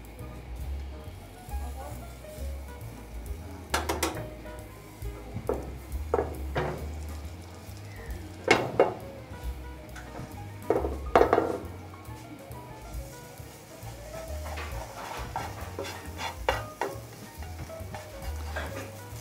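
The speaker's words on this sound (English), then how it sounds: "Now the pan is very hot. We try to put an egg. Okay. And we cook the egg." An egg cooks in a very hot pan in a pizzeria kitchen, with a constant sizzle broken by scrapes and knocks of a utensil over a low background rumble.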